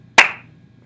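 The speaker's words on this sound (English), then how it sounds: "The second one, you're going to clap." One sharp hand clap from a music lesson lands close and clear, its bright crack fading quickly into a quiet room.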